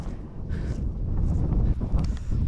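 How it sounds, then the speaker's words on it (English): Strong wind buffeting the microphone beside a mountain lake at a wild camp, a continuous rumbling roar with gusts swelling and easing, no voices. "But it's really windy."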